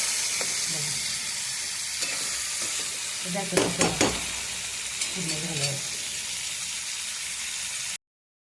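Drumstick pods fry in oil and spiced masala with a constant loud sizzling hiss, while a spatula scrapes and clinks against the pan in a short cluster of strokes midway before the sound cuts off.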